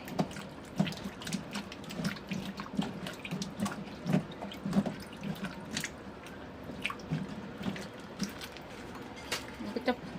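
Water runs and splashes steadily into a container as peeled taro is soaked in slaked lime water for a Thai taro-in-coconut-milk dessert, with faint drips and clinks from close by.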